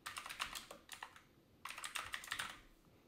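Computer keyboard typing at a Windows command prompt: two quick bursts of soft rapid keystrokes separated by a short pause, faint and close, with no voices.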